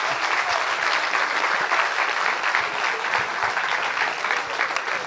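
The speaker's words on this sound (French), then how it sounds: "il mérite des gros applaudissements" Dense, steady applause from a hall audience, continuous hand-clapping at a constant level throughout, no voices standing out.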